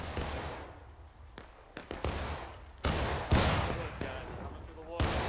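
Musket volleys crackle in the Civil War game War of Rights, with sharp, loud shots and ragged bursts of fire at irregular intervals, some close and some trailing off, mixed with voices talking.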